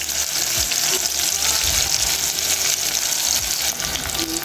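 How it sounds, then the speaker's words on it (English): Chopped onion fries in hot oil with a steady, loud sizzling hiss that runs throughout, broken by a few soft low knocks from the pan. "let's fry our onion."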